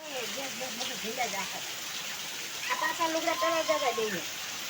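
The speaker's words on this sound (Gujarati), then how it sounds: "જોઈ લો વરસાદ આવે" Steady rain hisses throughout while a person talks over it nearby.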